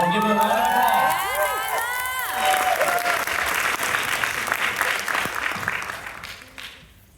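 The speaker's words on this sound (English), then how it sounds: "Everyone give her a round of applause." Audience applause and cheering fill a dance showcase hall after a traditional Bolivian Caporales number is announced, loud and sustained for several seconds with crowd noise, then fading toward the end; a voice speaks briefly at the start.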